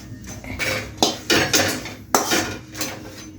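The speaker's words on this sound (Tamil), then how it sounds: "கொஞ்சமாக எண்ணெய் விட்டு வத்தலை முதல்ல வறுக்கணும்" Dried red chillies roasting in a little oil in a pan for idli podi, with metal utensil scrapes and clinks against the pan coming in several bursts, loud and close, and no talking.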